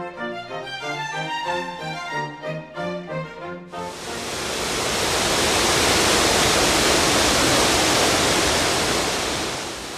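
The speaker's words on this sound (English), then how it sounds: "We're beside a river that was known by at least a couple of names" A river in Almonte rushes in a dense, steady roar of flowing water that swells in after a few seconds of music and then holds loud and unbroken to the end.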